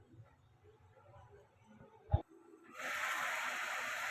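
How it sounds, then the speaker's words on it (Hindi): Chicken frying in a pan with green chilies for shawarma pockets: a quiet stretch and a single knock, then a loud, steady hissing sizzle that holds to the end, with no talk. "ये देखिएगा, चिकन हमारा अच्छी तरह भून रहा है।"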